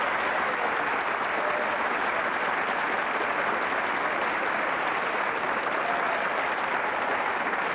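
A large audience applauds when Walter Mondale is named, a steady, even wash of many hands clapping with no break or peak, held at a moderate level throughout.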